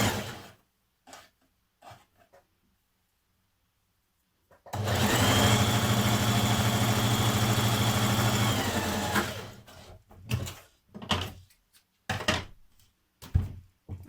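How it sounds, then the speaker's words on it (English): Sewing machine stitching the side seams of a 1940s vintage-style blouse, one loud, close, continuous whirring run of about four seconds, set between quiet fabric handling and soft knocks. "Now with your sleeve pieces, stitch down your side seams matching your notches"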